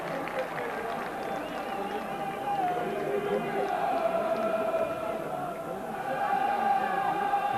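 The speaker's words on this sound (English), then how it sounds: "Crowd already shouting upon Newlove to get some of the ball" Roaring crowd noise from spectators at a Bradford Northern versus Doncaster rugby league match, a continuous swelling wash of shouts that rises toward the end, under a commentator talking.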